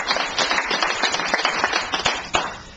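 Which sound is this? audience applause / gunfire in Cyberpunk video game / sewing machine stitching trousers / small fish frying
audience applause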